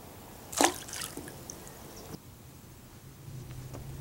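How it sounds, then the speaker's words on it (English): A ThruNite Ti3 flashlight drops into a pool of water with one sharp splash, followed by faint trickling and dripping in a quiet setting. "So I'm going to turn this on and drop it in the pool."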